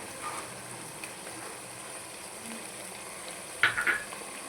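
Chicken fries in a pan with thick curd added, giving a soft, continuous sizzle with a few light stirring scrapes and a brief clatter near the end, quiet and close.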